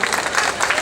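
Audience clapping at a Hindi-Urdu poetry recital during an All India Mushaira, a short steady burst of dense applause from a crowd, fairly close and continuous for under a second.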